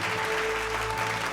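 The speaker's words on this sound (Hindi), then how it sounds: "जोरदार तालियां बजनी चाहिए।" Audience applause at a Hindi news network award ceremony honouring achievers in Uttar Pradesh, a steady wash of clapping over a faint hum, loud and continuous across the brief moment.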